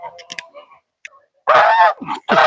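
Loud, harsh goose honks from a large grey goose close by, a long blast followed by two more in quick succession, preceded by some softer chatter and small noises.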